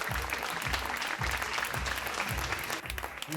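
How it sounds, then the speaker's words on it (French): Steady audience applause fills the room at a lingerie fashion show, a continuous dense wash of clapping with a low rhythmic beat pulsing beneath it, loud and sustained throughout. "elle mérite énormément d'applaudissements"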